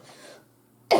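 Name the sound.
coughing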